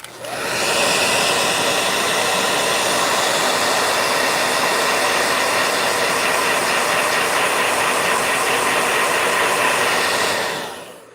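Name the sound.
blow dryer running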